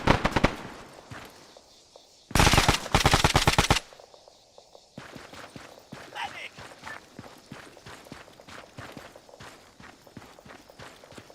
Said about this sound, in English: Didn't they take care of them effectively, huh? Whoa. Good shooting, guys.